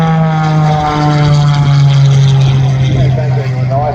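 A propeller airplane at an air show drones loudly and close with a steady engine hum as it takes off, its tone shifting slightly as it climbs, while a commentator talks over it.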